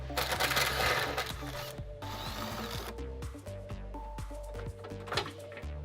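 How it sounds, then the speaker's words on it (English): A 13 mm wrench works the top shock bolts on a 2003-2006 Jeep Wrangler TJ, giving close, rapid ratcheting clicks in short bursts with metallic taps and shifting between them. "using a 13, we're going to remove the top bolts of this shock"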